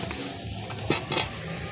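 Spices and egg sautéing in a pan for bamboo biryani, heard as a few close metallic clinks and scrapes of a utensil against the pan over a low kitchen background, with no talking.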